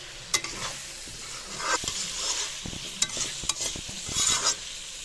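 Chunks of potato and red pumpkin fry in oil while being stirred, scraping and clattering in close bursts over a steady bright sizzle, with no voices.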